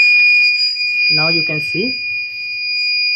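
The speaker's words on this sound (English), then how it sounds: "there is a buzzer going on, and let me show you here. There is a message, there is LPG leak." An LPG gas leak detector buzzer sounds a steady, piercing high tone throughout, with a second fainter tone above it, while someone speaks briefly over it.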